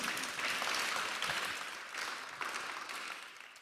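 Audience applause at a Paris deep-tech innovation event after a signing ceremony, a steady wash of clapping from a hall crowd, fairly distant and even, swelling slightly midway before tapering.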